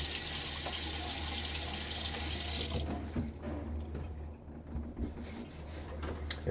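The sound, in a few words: tap water running to wet face before shaving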